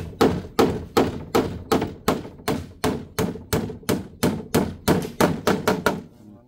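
Posts pounded into the ground outdoors, a steady series of about eighteen heavy, evenly spaced thuds close by, quickening slightly toward the end with no talking.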